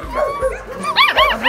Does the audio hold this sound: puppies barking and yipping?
yes